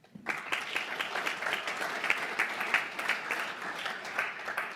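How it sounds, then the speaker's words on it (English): Round of applause from an event audience at an EDTalks education gathering honoring an education alliance; dense, sustained clapping starting abruptly and holding steady throughout, fairly close and full, with no talking over it. "Can we start out by giving a round of applause to the Education Alliance"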